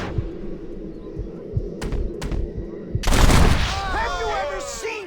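Gunfire in a duel from the video game Red Dead Redemption: a few sharp cracks amid background thumps, then a heavy loud burst followed by whistling, swooping tones.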